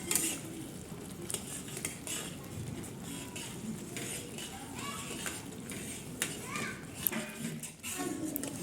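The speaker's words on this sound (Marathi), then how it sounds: "याला व्यवस्थित मिक्स करून घेणार आहे" Roasted semolina being mixed into hot ghee in a pan, continuous scraping and stirring with pan clatter and a faint sizzle, while children play and talk in the background.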